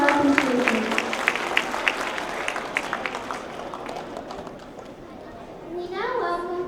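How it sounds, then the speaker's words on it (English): An audience applauds teachers at a Hindu Heritage Month launch event, a dense burst of clapping that fades over several seconds before a voice speaks near the end. "A round of applause, please, again for our teachers."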